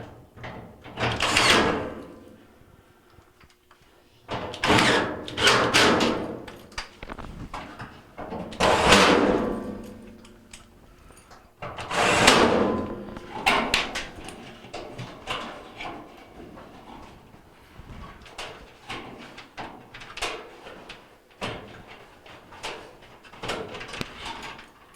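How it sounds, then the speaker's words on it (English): A metal front panel is handled and refitted on a Maytag LDE390 electric dryer, heard as several loud, separate clanks and scrapes spread across the stretch, with quieter rattles and shuffling between them. "put the front panel back on"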